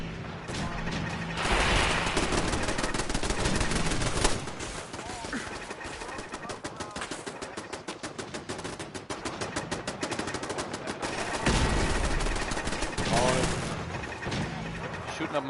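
Rapid automatic gunfire rattles almost nonstop as turrets are shot up in the Fallout 4 video game, dense loud bursts with brief lulls, and a voice talks over it.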